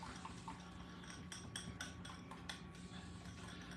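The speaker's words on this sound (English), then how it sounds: "Just mix it, whisk it up." A whisk rattles against a bowl while a dip is mixed, giving a quick run of light metallic clinks over a quiet hum, fairly soft and close, with no talking.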